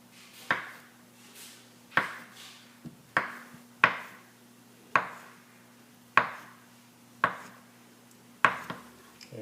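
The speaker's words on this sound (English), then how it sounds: "Just going to cut it in about 1/2-inch slices." A knife cuts fresh bananas into half-inch slices on a board, giving about eight sharp, evenly spaced chops with short decays, close and clear over a faint steady hum.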